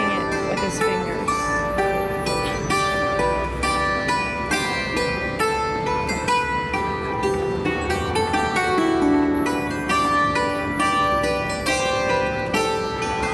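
Hammer dulcimer strings plucked by fingers, ringing bright, overlapping metallic notes in a steady flowing melody, close and sustained.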